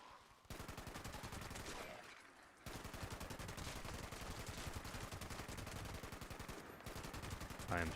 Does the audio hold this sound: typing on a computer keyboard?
no